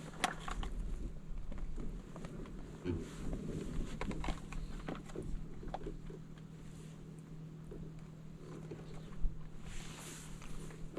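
Wind blowing across an open sailing canoe on a sunny day in the archipelago between Furusundsleden and Kallskär, a steady low rush and buffeting against the microphone with faint water and hull sounds, no voices.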